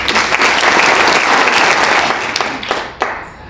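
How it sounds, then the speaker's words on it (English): Audience applause for a university panel discussion, a loud dense burst of clapping from a crowd that holds steady and then thins out, with a few last scattered claps at the end. "So let's give them all a round of applause."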